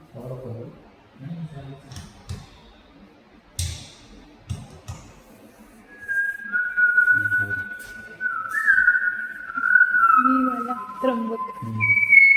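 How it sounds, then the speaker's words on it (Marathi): A Malabar whistling thrush in the Chandoli wildlife sanctuary gives clear, sliding, human-like whistles in the second half, following some low talk earlier. "त्याचं आपण जसं माणूस शिट्टी वाजवतो का तसं त्याचा आवाज असतो."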